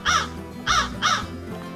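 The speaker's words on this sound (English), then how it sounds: "This crow complains." A crow near a duck feeder gives three loud, harsh caws in a steady rhythm, close by and unaccompanied by other sounds.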